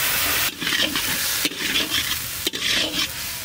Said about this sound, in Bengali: জল দিচ্ছি যাতে মশলাটা পুড়ে না যায়।